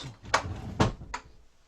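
Drawers in the sleeping cabin of a Hunter 49 sailboat slide and knock shut, three short close thumps spaced about half a second apart, fairly near in a quiet interior.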